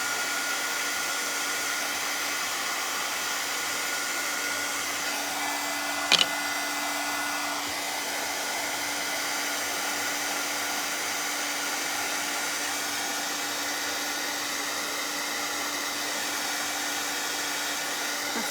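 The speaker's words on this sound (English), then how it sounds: "I'm gonna hit it with the dryer real quick" A handheld hair dryer blows on freshly painted green paint on a craft elf figure, a loud, steady airy roar running without pause, interrupted only by one brief knock partway through.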